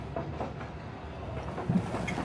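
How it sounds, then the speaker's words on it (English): A moving train with railroad cars, including a baggage car, producing a low rumbling roll with faint rhythmic clicks from the wheels, steady and moderately loud with no talking. "I'd wait for the train to stop."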